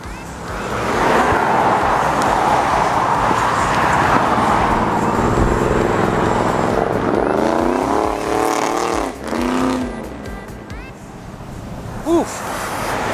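Chevrolet Camaro on cold Mickey Thompson tires accelerating away at a car meet, a loud engine roar rising in pitch then fading, with someone talking over it.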